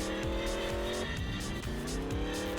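A Porsche driven in the Roblox game Mad City, its engine holding a steady, loud drone with shifting pitch as it speeds along, with tire squeal mixed in.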